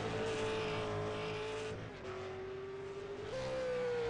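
A V8 Supercar race car runs a hot qualifying lap, its engine holding a loud, steady high-revving drone. The pitch dips briefly, then climbs again as the car goes through a gear change.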